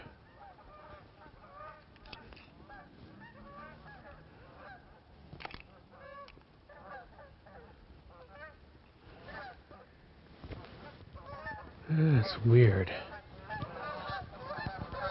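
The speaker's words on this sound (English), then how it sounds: "I've got some geese coming" Geese honk repeatedly, fairly distant, with a louder burst of honking near the end; a person speaks briefly.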